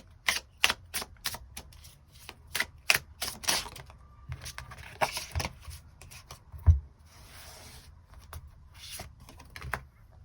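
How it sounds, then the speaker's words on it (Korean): Tarot cards are drawn and shuffled in a rapid series of sharp flicks and riffles, close and crisp, followed by softer sliding and a few scattered taps. "조금 더 추가 카드 뽑아보도록 하겠습니다"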